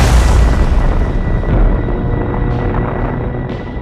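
A nuclear bomb explosion, estimated at some 3300 times larger than Hiroshima, sounds as a loud continuous deep roaring rumble that slowly fades with faint crackles.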